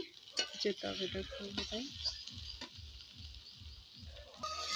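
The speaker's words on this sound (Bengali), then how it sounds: "এখন বসিয়েছি চিংড়ি মাছ চিংড়ি মাছটা ভেজে নেব" Prawns frying and being stirred in a pan of oil on a home stove, a steady sizzle under repeated scraping and stirring strokes that fall in a regular rhythm, close and fairly quiet.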